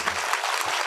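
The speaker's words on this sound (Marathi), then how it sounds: "हा वाजा एकदा जोरात टाळी" Crowd at a kirtan in Bodwad breaking into loud, sustained clapping, a thick continuous wash of hand claps with a few low voices underneath.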